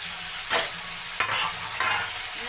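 Tomatoes added to cooked onions fry in a pan with a steady sizzle, broken by three sharp stirring scrapes at roughly even intervals; close and moderately loud, no voices.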